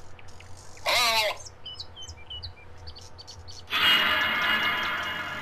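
Loud chirping birds in a Roblox horror game, a burst of harsh squawking followed by scattered high tweets, then a dense, bright wash of bird chatter swelling near the end.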